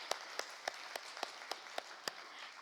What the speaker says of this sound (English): It's a big round of applause for all of them.